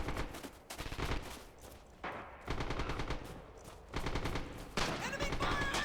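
Rapid rifle and machine gun fire crackles through a Red Orchestra 2 Stalingrad battle in near-continuous bursts, with sharp close shots over distant volleys and a faint shouted voice in the mix.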